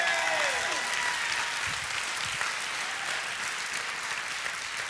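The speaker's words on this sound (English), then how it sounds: "give him a hand clap of praise." A church congregation applauding, a dense, sustained roar of many hands clapping that stays loud and even from start to finish, with a faint voice briefly audible beneath it near the beginning.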